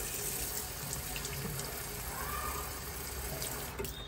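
Water runs steadily into the rear filler of a tank-style Holi water gun, a continuous close splashing trickle like a tap stream, with no talking over it.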